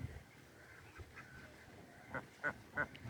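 A female duck quacks three times near the end, short, clear and spaced evenly, following softer scattered calls amid faint outdoor background.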